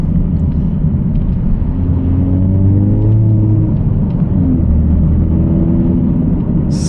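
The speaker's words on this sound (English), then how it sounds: "I love how this car sounds so much." A 2023 Mazda 3 Sport engine hums steadily from inside the cabin, a low continuous drone with the pitch rising and falling slightly as it drives, no talking.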